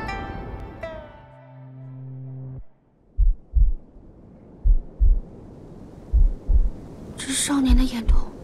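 A cinematic heartbeat sound effect thumps in paired, deep beats at a steady slow rhythm, following a sustained tonal swell, with soft airy ambience and a brief sound flourish at the end.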